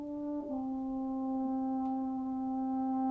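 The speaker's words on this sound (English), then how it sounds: "Another mic slightly further back from it that goes like this." French horn holding a steady sustained note, picked up by a microphone set slightly back from the instrument so the tone sounds rich with a touch of room, moderately loud and alone.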